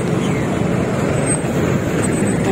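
Road traffic at the Nichols interchange in Manila, a dense continuous rumble of vehicles passing with steady engine and tire noise, loud and unbroken, without voices.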